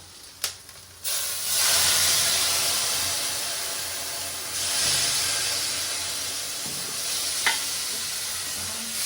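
Frying onion and tomato in a pan sizzle with loud hissing bursts as poppy seeds go in, the steamy hiss swelling and fading, broken by a couple of sharp utensil knocks, close up with no talk.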